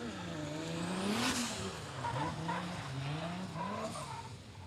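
A drift car with a 2JZ engine, stroked to 3.4 litres, sliding at a D1GP round in Malaysia, its engine rising and falling under long squealing tyres, steady and moderately distant with crowd ambience.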